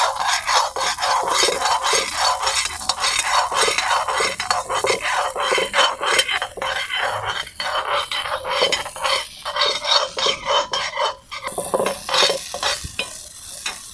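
Amaranth (rajgira) seeds popping in a hot pan while being stirred constantly for ladoos: a dense, continuous crackle of tiny pops over scraping and sizzling, steady and close throughout.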